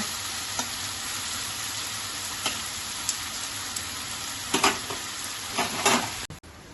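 A ghugni mixture sautéing in a pan, a soft continuous sizzle with occasional spoon scrapes and stirring strokes, quiet and close, louder clatter near the end.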